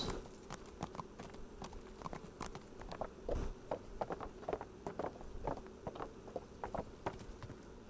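Horse hooves clip-clopping at a steady walking rhythm in the medieval video game Kingdom Come: Deliverance, close and moderately quiet, with no talking over them.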